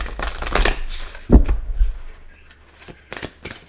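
Oracle cards being shuffled by hand, a close, papery riffling in two busy bursts separated by a quieter pause, with a few sharp card taps and flicks between them and no talking.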